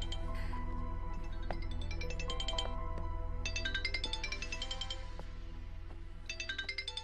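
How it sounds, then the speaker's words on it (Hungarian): A telephone rings indoors with a repeating melodic ringtone, bursts of bright chiming notes over a steady low hum. "Nimet, csörög a telefon."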